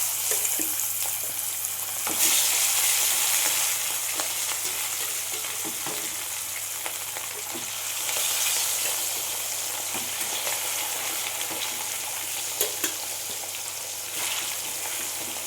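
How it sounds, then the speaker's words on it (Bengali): Pieces of rohu fish fry in hot oil in a pan, a steady sizzle and crackle that swells as they are turned, close and continuous with no talk. "উল্টে পাল্টে ভালো করে লাল লাল করে আমি মাছগুলো ভেজে নেব।"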